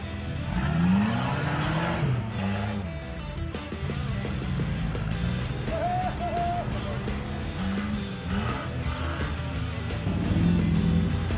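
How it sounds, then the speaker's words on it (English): A custom-built Suzuki Sierra 4x4 with Hilux diffs drives along, its engine a steady, close drone that rises slightly as it accelerates, with a voice heard over it at times. "this is my Suzuki Sierra. It's custom built with Hilux diffs,"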